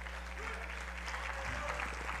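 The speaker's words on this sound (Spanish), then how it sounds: "Le damos un aplauso bien fuerte al Señor" A church congregation claps together in a steady wash of applause, fairly close and continuous, with a low hum and some voices mixed in beneath.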